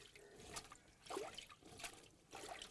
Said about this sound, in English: Put that in the water. Run your roller up and down it a few times